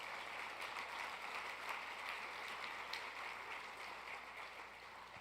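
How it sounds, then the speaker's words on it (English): Audience applause fills a gala room, a steady, dense wash of clapping hands held at an even level throughout, fairly distant and without voices over it. "Everybody in this room deserves a round of applause"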